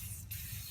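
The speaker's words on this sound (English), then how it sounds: "and just start spraying" An aerosol spray paint can hisses steadily as it coats a wheel caliper, a brief close spray with a short break in the middle.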